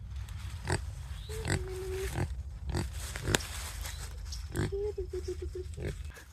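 Pigs on a farm at feeding time grunt and oink repeatedly, close by, over a constant low background rumble.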